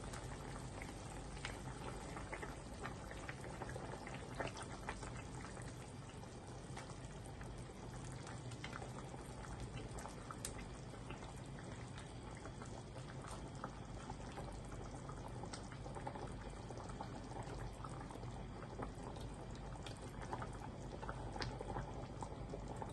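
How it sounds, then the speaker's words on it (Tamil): A pot of stingray fish curry comes to a rolling boil, giving a soft, steady bubbling and popping that continues quietly and evenly with no talk. "நல்லா கொதி வந்துருச்சு இப்போது ஃபிஷ் ஆட் பண்ணிடலாம்"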